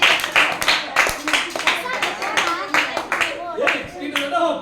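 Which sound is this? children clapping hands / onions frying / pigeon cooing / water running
children clapping hands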